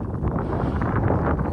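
Steady wind buffeting a microphone outdoors on a holiday trip in America, a continuous loud low roar with gusty swells and no pauses.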